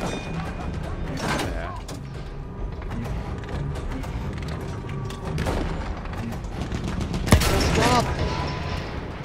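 Enemy machine gun fire in the video game Battlefield, rapid bursts and booms from battle, continuous and dense, with a sharp loud crack near the end and voices talking over the gunfire.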